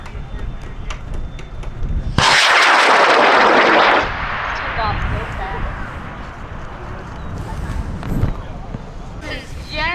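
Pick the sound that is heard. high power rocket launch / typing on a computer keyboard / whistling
high power rocket launch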